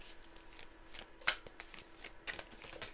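Moonology oracle cards are shuffled by hand in a quiet room, with a run of soft riffling flicks and one sharper snap partway through, close and gentle with no one speaking.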